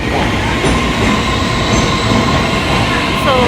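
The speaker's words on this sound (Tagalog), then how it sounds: "So, hintayin natin yung train na Shifen." A train on the Shifen line in Taiwan rolls into the station with a steady, loud rumble of wheels and carriages, a faint squeal rising near the end.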